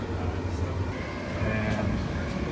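Inside a packed train carriage travelling from London, a steady low rumble and rattle of the moving train fills the air, with murmuring voices in the background.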